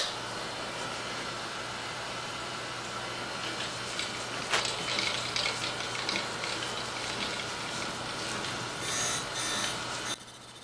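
A surface grinder taking a light pass on titanium with flood coolant running: a steady dense hiss like spraying water, with faint intermittent scraping and a short sharp crack partway through.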